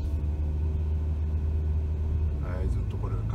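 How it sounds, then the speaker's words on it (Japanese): Toyota Sienta hybrid pulling away on its gasoline engine in city driving, a steady low engine rumble with road noise throughout, plus a few faint higher tones rising near the end. "はい、ずっとこれがガソリンエンジンの動力ですね。"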